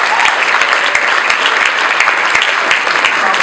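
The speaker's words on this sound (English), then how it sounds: "Give them a round of applause." An audience at the 2012 World Cultural Economic Forum in New Orleans claps for Mardi Gras Indians performers, a loud, dense burst of applause holding steady throughout.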